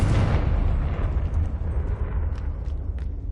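A Confringo spell explodes in Hogwarts Legacy, a loud, close blast with a deep rumbling low end that decays into scattered crackling debris over a few seconds.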